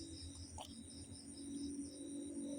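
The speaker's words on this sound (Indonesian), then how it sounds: "Jangkrik, jantan ini nah" A male cricket chirping in a faint, continuous high-pitched trill, steady and quiet throughout, over low background hum, with no talking.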